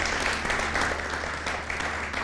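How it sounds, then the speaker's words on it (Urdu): Audience at an Urdu Eid mushaira applauds a woman poet, a dense, steady wash of many hands clapping close and fairly loud throughout, with no voices over it. "محترمہ یاسمین حمید صاحبہ کے لیے بھرپور تالیاں۔"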